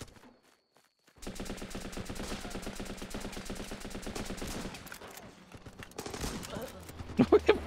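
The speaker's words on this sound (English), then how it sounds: "That was a shotgun shot." Gunfire in the war video game Running With Rifles, including a shotgun blast: dense rapid cracks and bursts of shooting after a quiet start, then a few sharper, louder shots near the end.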